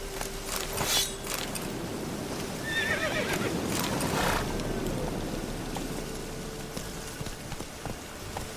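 Roach, the horse in the video game The Witcher 3, gives a loud whinny amid steady clip-clop hooves, with rain pattering in the background, close and continuous throughout.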